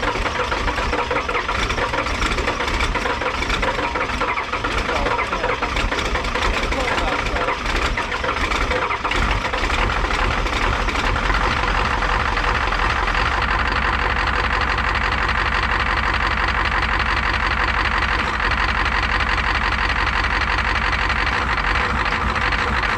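A car engine fitted with an OPTIMA battery cranks and catches, then settles into a steady, loud idle that runs continuously up close, with a voice talking over it at points.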